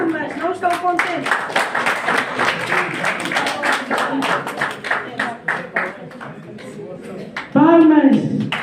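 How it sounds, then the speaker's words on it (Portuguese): Clapping from the audience at a journalism diploma ceremony, a busy patter of hands that thins toward the end, with a speaker's voice breaking in over it. "Palmas, não estão contentes."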